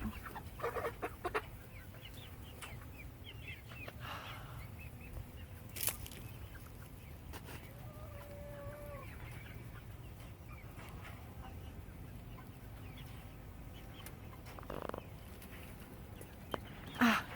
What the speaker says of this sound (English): we found that we have a couple of roosters in the chicks that we got